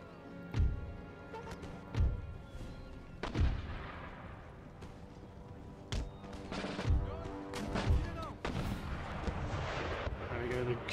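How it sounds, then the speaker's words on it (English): Cannon fire and cannonballs smacking into an enemy position in Empire: Total War, a series of sharp, booming impacts spaced roughly a second apart over a steady battlefield bed, with speech between shots. "the cannonballs are smacking straight into their position"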